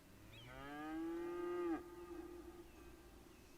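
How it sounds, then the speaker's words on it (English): In the city-building game Cities Skylines, a cow on a farming district lets out a single long, rising moo that ends abruptly, clear and close against quiet surroundings. "Sound of cow in the morning."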